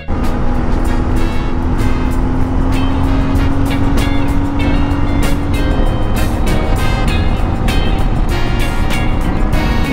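Constant loud road noise of tricycles and single motorcycles passing on a smooth rural highway, with one engine drone rising briefly and a rushing, wind-buffeted roar throughout.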